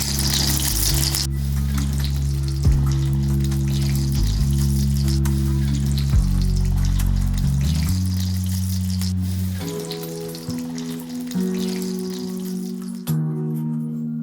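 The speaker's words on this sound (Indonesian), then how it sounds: "Ayam yang sudah dibumbui kemudian digoreng sampai warnanya kecoklatan." Seasoned chicken pieces fry in hot oil until browned, giving a steady, dense sizzle and crackle close by, continuous throughout, with a low background hum underneath.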